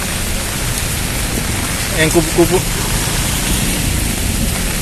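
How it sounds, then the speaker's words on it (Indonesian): Steady rain falls on a city street during a walk in Jakarta, a dense continuous hiss close around the listener, with a brief spoken phrase in the middle. "Suasana hujan di kota."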